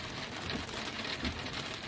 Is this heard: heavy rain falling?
yes